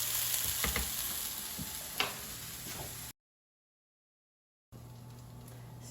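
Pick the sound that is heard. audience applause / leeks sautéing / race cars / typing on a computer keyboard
leeks sautéing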